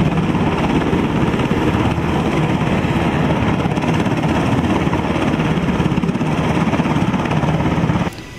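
Loud, constant UH-60 Black Hawk military helicopter rotor and engine roar, a heavy throbbing drone that stays close and steady before cutting off abruptly at the end.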